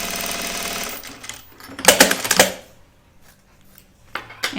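Sewing machine stitching binding onto a vinyl wallet, a close, rapid mechanical whirr in short bursts, loudest around the middle, with a brief restart at the end.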